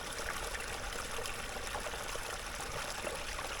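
Natural mountain spring water trickles and splashes steadily close by as water is collected, a continuous bright, hissing flow with no voices.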